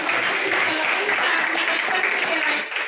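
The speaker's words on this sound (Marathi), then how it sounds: "खरोखर या बहिणीसाठी खूप टाळ्या वाजल्या पाहिजे" A congregation applauds a woman after a prayer, with steady, dense clapping from many hands that stays loud throughout the short burst.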